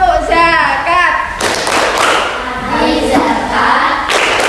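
In a zakat lesson, a group does a rhythmic clapping chant. Loud, heavy claps land in a patterned beat among chanted voices, after a few spoken words at the start.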